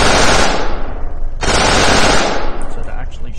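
Rapid machine-gun fire from enemies in the video game Desert Throne rattles in two dense, loud bursts, close and continuous, with a short gap between them.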